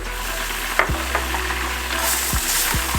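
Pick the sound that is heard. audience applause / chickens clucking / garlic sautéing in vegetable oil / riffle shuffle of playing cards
garlic sautéing in vegetable oil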